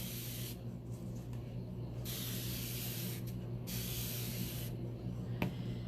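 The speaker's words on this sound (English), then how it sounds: "It is a fine spray mister. You can see the mist, and I'm spraying down my board." Fine spray mister water bottle misting a chalkboard, with broad hissing bursts repeating several times alone over a steady low hum, ending with a brief click.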